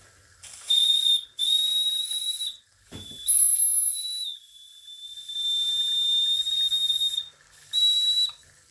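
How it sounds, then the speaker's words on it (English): A restored IND-X live steam engine with a new immersion-heater boiler blows its small steam whistle in a series of shrill, close blasts, some short and some held for several seconds, with hissing steam between them. "See if we can get the whistle to blow."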